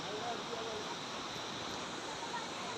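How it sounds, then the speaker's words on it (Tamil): Meenmutti waterfall in Wayanad, Kerala pours steadily, a dense, constant rushing roar of falling water heard up close with no breaks. "அருவி அழகாக இருக்குது."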